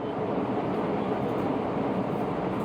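Inside a WMATA 6000-series Alstom Yellow Line metro car heading toward Huntington, a steady, dense rumble of wheels and motors rolling along the track, unbroken and fairly loud.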